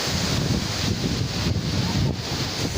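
Manthokha waterfall in the Kharmang valley gives a steady, loud broadband rush of falling water, mixed with gusty wind buffeting the microphone and no talk.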